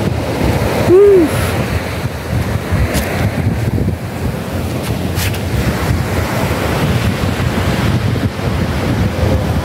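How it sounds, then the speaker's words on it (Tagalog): Gentle sea waves wash steadily onto a beach at a resort in Infanta, Quezon, mixed with continuous wind rumble across the microphone and a brief bright chirp early on; no speech. "Banayad ang dagat."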